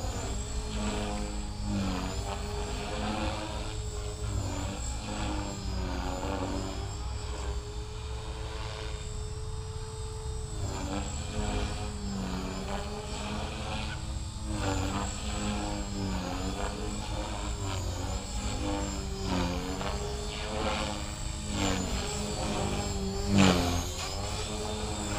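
A 450 Pro RC helicopter flies in governor mode, its rotor and motor holding a steady, even whine throughout, with slight shifts in pitch as it maneuvers and a brief sharp spike near the end.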